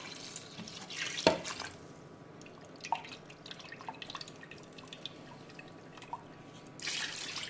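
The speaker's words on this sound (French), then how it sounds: "On va rajouter le fond de veau." Veal stock poured into a pot of bœuf bourguignon, a liquid splash and trickle with one sharp knock near the start, scattered drips, and a steadier pour returning at the end, quiet and close with no talking.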